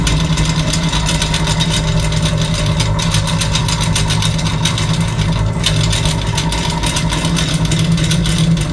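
Old coil winder unwinding the original radio coil from a 1945 Columbus Model 90 onto a spool, a loud continuous mechanical whir with a steady rapid ticking pulse throughout, no speech.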